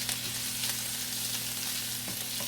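Onions fry in a pan over medium heat, giving a steady, even sizzle that continues without a break and with no talking.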